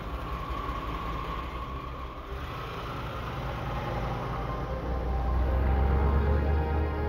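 A police car's engine rumbles steadily as it turns around, the low drone swelling louder toward the end.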